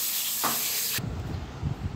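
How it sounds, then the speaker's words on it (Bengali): Pointed gourd (potol) shells frying in hot oil give off a loud, steady broadband hiss, the sizzle swelling partway through and then settling into a lower, crackling spatter. "এই তেলে পটলের খোলগুলো ভালোভাবে ভেজে নেব।"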